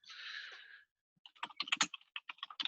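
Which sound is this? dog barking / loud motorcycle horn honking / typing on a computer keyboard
typing on a computer keyboard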